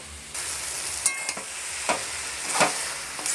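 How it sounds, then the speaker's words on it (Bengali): Pasta is stirred with fried spices, soy sauce and tomato sauce in a pan, a steady sizzle under a few sharp scraping clacks of the spoon against the pan. "এবার ভালোভাবে মিক্স করে নিচ্ছি মশলার সাথে"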